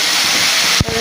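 Prawns frying in hot oil with turmeric give a loud, steady sizzling hiss that runs throughout, with a brief disturbance near the end as the contents are stirred or shifted.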